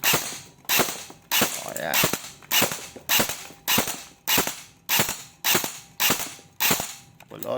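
An airsoft MK18 rifle fires semi-auto shots through a chronograph: about eleven sharp, loud snapping cracks at a brisk, regular pace of roughly one per second, each followed by a brief mechanical rattle, with a short spoken word in between.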